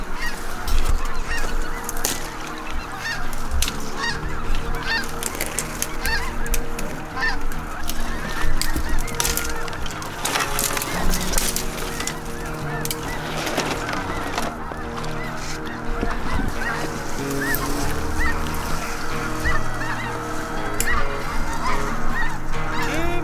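A large flock of waterfowl in the Mississippi Delta honks and calls continuously, dense overlapping cries from many birds near and far as they rise off the water, with no talk.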